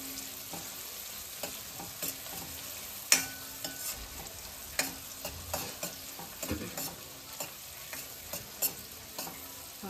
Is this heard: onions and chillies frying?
yes